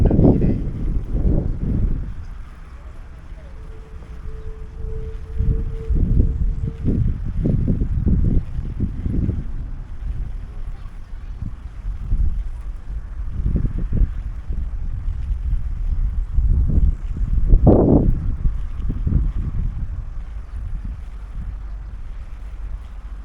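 Strong wind buffets the microphone in gusty, uneven bursts of low rumble, loud and close, rising and falling over the whole stretch with a faint steady tone briefly in the background.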